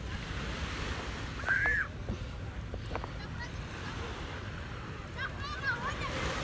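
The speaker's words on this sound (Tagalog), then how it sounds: "Ito tayo sa may dagat." Sea waves washing onto a beach make a steady, fairly quiet surf rush with wind noise, while a bird calls briefly and people talk faintly.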